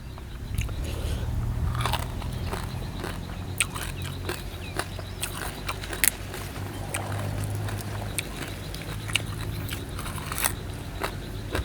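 Crisp, crackling bites and chewing on crunchy roasted field rat skin, close up and repeated irregularly over a low background hum, with no talk.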